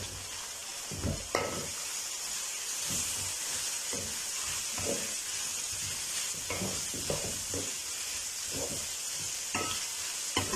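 Chopped cabbage sautéing in a hot pan for chow mein, a steady sizzle and hiss with intermittent stirring scrapes and clinks throughout.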